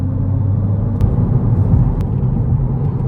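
A 2021 Kia Forte GT with a 2-liter turbocharged four-cylinder and six-speed manual, floored in sixth gear, heard from inside the cabin as a loud, steady low engine drone and road rumble with faint clicks.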